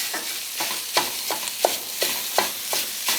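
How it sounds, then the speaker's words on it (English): A spatula breaks up sausage in a hot pan for cornbread stuffing, giving about eight sharp scraping strokes at a steady rhythm over a sizzle, close by, with no voices. "we need a good spatula. And you're gonna break this up"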